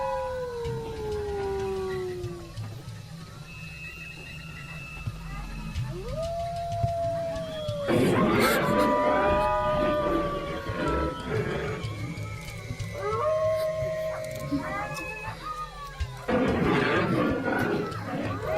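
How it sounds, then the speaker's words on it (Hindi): Foxes howl at night in a film scene, with repeated wavering, gliding cries that overlap and rise and fall over a dark, rustling background, some loud and near, others farther off. "ये जो आवाजें आ रही है वो कुत्तों की है ना? नहीं, लोमड़ी की है।"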